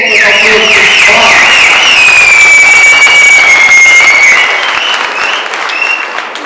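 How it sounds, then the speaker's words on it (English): A crowd at a Patriotic Alliance regional launch in the Vaal claps loudly, with shrill whistles and high ululating cries riding over the applause before it thins out near the end. "And give yourself a round of applause"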